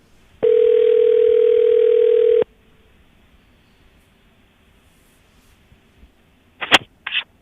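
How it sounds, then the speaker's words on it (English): A telephone tone on a radio morning show, one steady loud tone lasting about two seconds, then near silence before a couple of short clicks or bursts at the end. "So as the phone rings, answer your phone"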